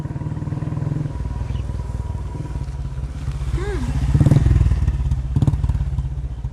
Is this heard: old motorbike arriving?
yes